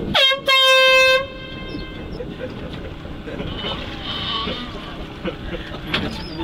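A horn blasts twice in long, loud, tonal pulses aboard a homemade raft built from barrels, drifting on an Altai river, then fades into outdoor noise and people talking.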